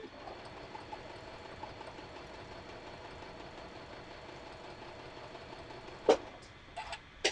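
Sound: sewing machine stitching a quarter inch seam

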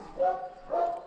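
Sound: dog barking

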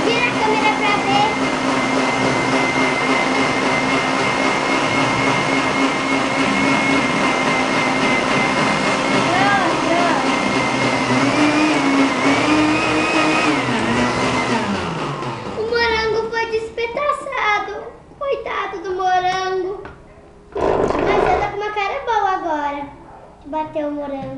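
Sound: blender blending strawberry and banana smoothie

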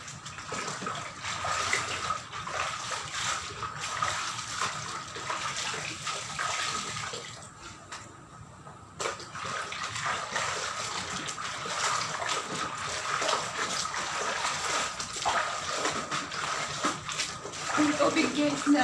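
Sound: water running while washing white clothes

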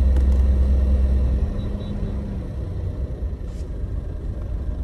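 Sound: car pulling away in first gear after clutch release

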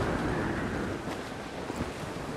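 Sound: storm wind and waves at sea, from Assassin's Creed IV video game

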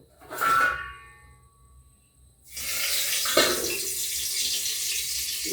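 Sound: tap water running to wet curry leaves

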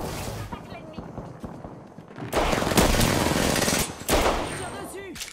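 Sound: gunfire from the video game Apex Legends

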